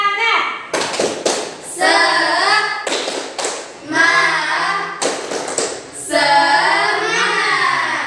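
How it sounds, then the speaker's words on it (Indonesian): An Indonesian junior high school class does the rhythmic 'tepuk semangat' spirit clap: several bursts of sharp group claps in patterned rhythm, mixed with loud chanting children's voices, close and lively. "Kalau begitu kita tepuk semangat terlebih dahulu, ya. Tepuk semangat."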